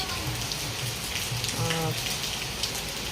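Heavy monsoon rain pours steadily onto surfaces, a dense unbroken hiss that stays level throughout, with a faint voice briefly audible beneath it.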